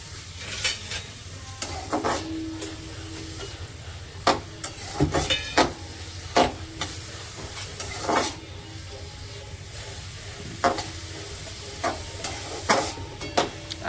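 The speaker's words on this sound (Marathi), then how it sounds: "ह्याला आता आपण हाय फ्लेमवरती थोडं भाजून घेऊ." Chopped onion and tomato roast in a pan over a high flame, giving a steady low sizzle broken by repeated sharp scraping and stirring knocks from a spatula against the pan, with no talking.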